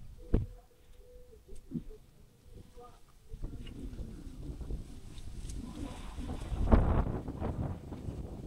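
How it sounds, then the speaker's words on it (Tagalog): Strong wind outdoors around a newly built hut where a solar light is being installed: low, rumbling gusts buffet the microphone and swell toward the end, with a few knocks early on. "Lakas ng hangin."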